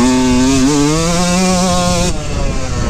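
A Yamaha YZ125 two-stroke motocross bike screams loud and close at full throttle, its pitch wavering and climbing steadily before cutting off abruptly into rougher, lower engine noise.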